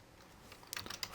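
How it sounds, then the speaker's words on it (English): Rapid light keystrokes on a computer keyboard, a quick run of faint clicks in a quiet room. "I'll type in"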